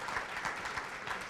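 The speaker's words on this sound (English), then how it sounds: "let's give Anita and the Surrey Board of Trade just a big round of applause" Applause from an audience at a regional business and transportation event in Surrey, a steady dense patter of many hands clapping at moderate level with no voices.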